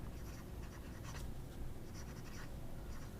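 A Yowo broad nib fountain pen, wet, smooth and fairly stiff, writing on paper in a faint, steady scratchy stroke that continues without pause, close up and quiet.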